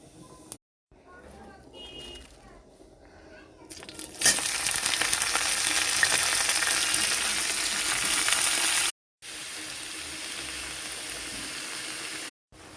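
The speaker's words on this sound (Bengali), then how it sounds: "ডাল নিয়েছি, ভাজার জন্য একটু সামান্য তেল দিয়ে দিচ্ছি" Lentils frying in a little oil in a home kitchen give a loud, steady sizzle that starts suddenly and carries on for several seconds, briefly cut out and resuming, after some quieter handling sounds.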